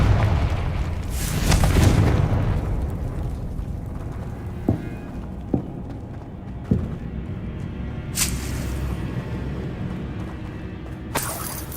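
Repeated Confringo spell blasts from the video game Hogwarts Legacy: loud booming, shattering bursts, with a big rumbling blast early on and then several sharper pops and cracks spaced a second or two apart over continuous game ambience.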